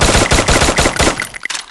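Rapid bursts of video game assault rifle fire from an XM8, loud and close, in a fast rhythmic stream that breaks into a few scattered shots before stopping.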